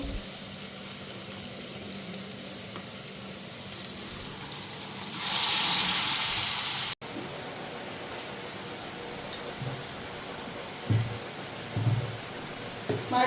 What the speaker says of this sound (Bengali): ওইখানে দিয়ে দিলাম লঙ্কা আর বেগুনি, একটা একটা করে ভাজা নিই।